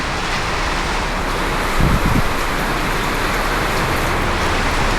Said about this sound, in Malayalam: നല്ല മഴ പെയ്യുന്നുണ്ട്, സൗണ്ട് കേൾക്കുമ്പോൾ മനസ്സിലാവുമല്ലോ അല്ലേ.